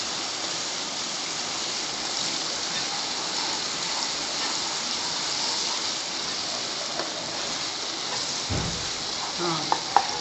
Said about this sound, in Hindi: थोड़ा सा इसको 2 मिनट भूनेंगे कि इसकी कच्चापन ज़रा ख़त्म हो जाए